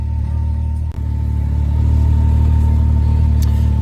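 A Can-Am X3 MAXX side-by-side fitted with a homemade windshield, driving with a loud, steady mid-pitched engine drone and rumble heard from inside the cab, broken by a brief dip near the start.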